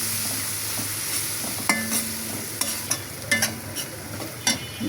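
Spice paste of garlic and cumin with turmeric and chili powder sautéing in a pan: a soft continuous sizzle with scattered scraping and tapping stir strokes, close up, with no voices.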